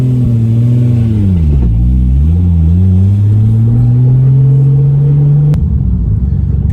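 A Nissan S15 Silvia engine drones loudly under acceleration, pitch rising and dipping before climbing steadily, then cutting sharply as it flat shifts from third into fourth and settles into a rougher rumble.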